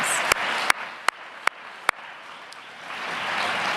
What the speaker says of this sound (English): I wonder if we might give our speakers a huge round of applause.